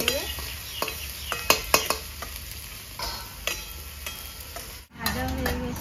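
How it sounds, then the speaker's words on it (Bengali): Cumin seeds and dried red chillies dry-roast in a pan without oil, crackling softly while a spatula scrapes and taps the metal in sharp, irregular strokes, with a brief pause near the end. "সম্বরা জিরে শুকনো লঙ্কা গন্ধটা যতক্ষণ না বেরোবে ততক্ষণ কিন্তু তেল দেবো না,"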